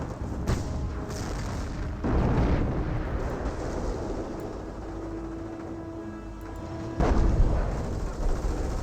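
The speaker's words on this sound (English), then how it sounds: "Hummel recovered by the Berkantiga. Firing a barrage there onto the Fireflies, I'm guessing." Artillery barrage from a Hummel self-propelled gun in Company of Heroes, heavy booming blasts rolling in around the two- and seven-second marks over a continuous rumble of distant battlefield fire.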